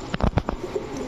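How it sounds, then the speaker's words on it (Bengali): A female Saap Chila pigeon cooing up close, a short burst of soft throaty coos in quick succession, with no talk. "একদম পাল্লা লাইনের একটা সাপচিলা মাদি কবুতর"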